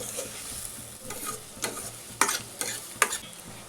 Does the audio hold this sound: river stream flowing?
no